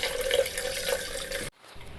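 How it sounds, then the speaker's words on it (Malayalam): Coconut milk pours into a blended ragi and white sesame drink as a steady liquid stream for about a second and a half, then stops abruptly, leaving faint dripping. "ഇതിനകത്തോട്ട് ബാക്കി തേങ്ങാപ്പാലും ഒഴിക്കാം"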